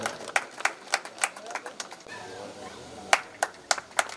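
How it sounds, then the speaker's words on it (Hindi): Scattered hand claps at a bhajan competition prize distribution in Ladkui. Distinct single claps come in an uneven rhythm, pause briefly midway, then resume, with some background murmur. "जोरदार तालियां बजाई भी।"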